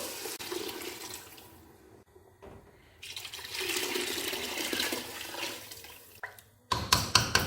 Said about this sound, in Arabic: الآن نمرق بالماء سخون